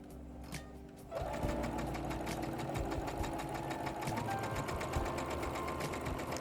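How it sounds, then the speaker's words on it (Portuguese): An SG-9000 sewing machine stitching fabric starts up after a brief pause and runs at a steady, rapid mechanical chatter, close and continuous to the end, with no talking over it. "E vamos costurar."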